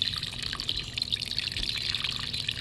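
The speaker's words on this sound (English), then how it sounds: "And then I'm gonna water generously." Water pours steadily from a watering can onto newly planted tomato seedlings in soil, a continuous soft splashing trickle, close and moderately quiet, with no one talking.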